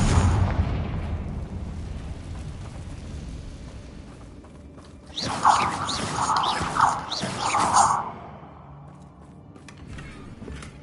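A run of popping fiery blasts from the Confringo spell in Hogwarts Legacy, four bursts in quick succession after a quieter stretch of low rumble.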